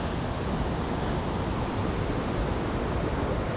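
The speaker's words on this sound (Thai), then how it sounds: "หน้าผาครับน้ำตกไหลลงมา" A waterfall pours down a high cliff in Nakhon Nayok, making a steady, dense rushing roar that holds an even level throughout with no voices.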